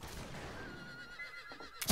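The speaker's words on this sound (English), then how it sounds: "Oh, horses are screaming." Horses neighing in the Western shooter game Fistful of Frags, a drawn-out whinny holding steady through the middle of the clip over busy game noise, ending in a sharp loud burst.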